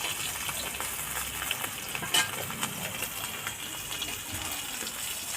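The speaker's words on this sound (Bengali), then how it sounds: "আর বাকি মাছটা এইভাবে ভেজে নেবে।" Tengra fish fry in a pan with a steady low sizzle and crackle, close and fairly quiet, with a few small clinks and no talk over it.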